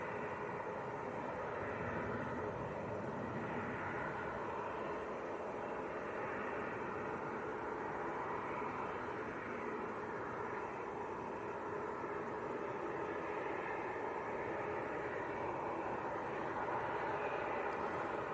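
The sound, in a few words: Pilatus PC-24 jet at Manchester Airport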